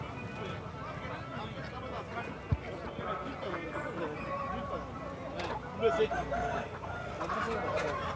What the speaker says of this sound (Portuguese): Hoje tem bastante peru na feira.